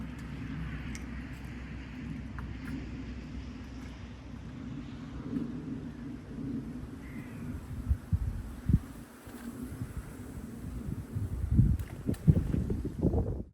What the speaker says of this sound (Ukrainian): вітер обдуває